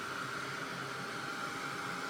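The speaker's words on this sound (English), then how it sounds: "I'm going to take my heat gun. Sorry, it's going to be a bit noisy." Steady whooshing roar of a heat gun blowing hot air, constant and close, with a faint whine running through it.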